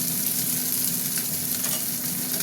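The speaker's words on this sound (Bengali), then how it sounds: "পেঁয়াজ ভাজা ভাজার সঙ্গে এই যে ফুলকপিগুলো দিয়ে দিলাম" Onions and cauliflower fry in a pan of hot oil, a steady, close hiss and sizzle with faint stirring scrapes, no voices over it.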